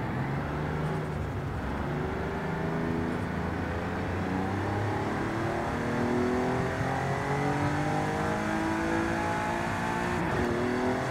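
An ABT-tuned Audi RS4-R with 1100 Nm of torque drives in Forza Horizon 5, its engine humming steadily with a continuous revving drone and rising and falling pitch, loud and close throughout.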